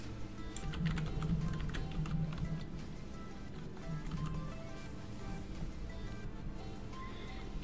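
Fingers typing a campaign name on a computer keyboard, a run of quick, close clicking keystrokes with brief pauses, no voices.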